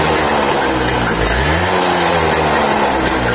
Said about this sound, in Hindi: जो ट्यू स्ट्रोक का साउंड आना चाहिए बिल्कुल एकदम टिक टिक टिक टिक करके